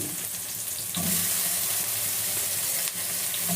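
White onion fries in a pan while dinner is cooked, giving a steady close hiss and sizzle with a brief louder burst, no talking.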